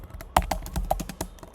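Quick, irregular clicks of keys on a computer keyboard as code is typed, close-up, with a few sharper keystrokes standing out from the rest.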